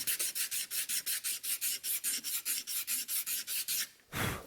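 Scraper dragged across filler on wood in about sixteen quick, even strokes, loud and close, each a dry raspy scrape, then a brief pause and one heavier, lower scrape at the end; no talking.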